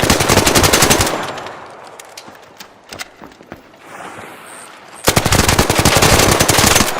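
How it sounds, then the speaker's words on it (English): Loud rapid automatic gunfire in a video game, in two long sustained bursts at the start and end, separated by quieter scattered single shots and ambient noise. "The guy's shooting at me."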